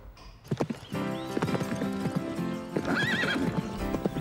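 A horse's hooves clip-clop in a quick trot, followed by a loud, wavering neigh close by.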